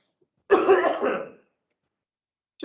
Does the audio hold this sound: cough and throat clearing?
yes